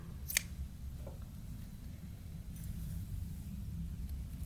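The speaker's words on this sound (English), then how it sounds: "And once we have our yarn cut," A single crisp snip of scissors cutting yarn after a crocheted 3D diamond hat is finished, quiet and close, with a couple of fainter handling rustles over a steady low room hum.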